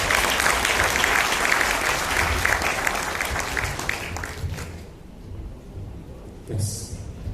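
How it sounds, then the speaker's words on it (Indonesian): An audience applauding a guest at a live event, a dense, sustained clapping crowd for about five seconds that then fades to quieter room sound with a brief burst near the end. "kita berikan juga aplaus untuk tamu kita, Kuku Wibisono Citro"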